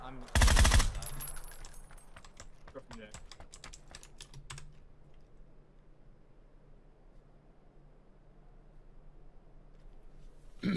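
Rapid automatic gunfire in PUBG, a loud burst of shots followed by a fast string of cracks that stop abruptly, leaving quiet background hiss.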